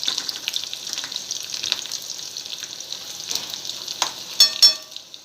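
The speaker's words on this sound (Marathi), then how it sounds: "लसण खोबरं आणि कांदा घातलाय आपण भाजले बघा" Garlic, grated coconut and onion roast in a hot pan, giving a steady, close crackling sizzle with a few louder pops near the end and no talking.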